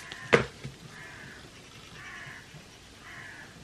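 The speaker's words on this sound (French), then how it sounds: "Ça va les corbeaux, on vous dérange pas?" Crows caw outside in the rain, with three faint, drawn-out calls spaced about a second apart over a steady wet hiss, after one sharp knock near the start.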